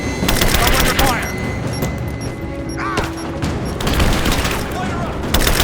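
Dense video game firefight with bursts of automatic gunfire, rapid shots and a few booms, loud and continuous throughout, with voices calling out over the battle.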